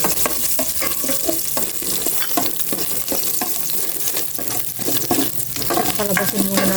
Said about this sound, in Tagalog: Ngayon ko igisa, luya.